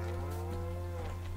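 A cow lows steadily in a farming simulation game set in Thüringen, a long, loud, sustained moo with a deep tonal drone filling the whole moment, no talk over it.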